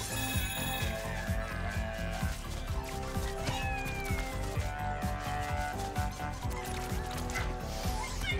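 A cat meows in the PS5 video game Astro's Playroom, set within dense, busy game music and effects that run continuously throughout.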